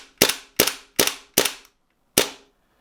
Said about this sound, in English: it's got quite a bit of I wouldn't say kick, but quite a strong blowback action on this pistol